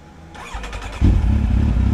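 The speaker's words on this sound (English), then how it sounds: "start up the new bike" A 2008 Kawasaki Z1000 motorcycle cranks briefly with a starter whir, then its engine catches and settles into a loud, close, throbbing idle.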